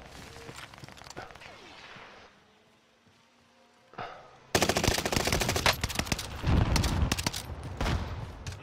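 Bursts of rapid automatic gunfire in a multiplayer shooter video game, loud and close, after a quieter lull with a single shot, then sustained rattling volleys.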